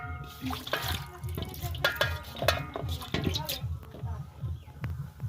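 Tap water runs and splashes as okra is washed by hand in a kitchen sink, with irregular splashes and clatter close by while a person talks.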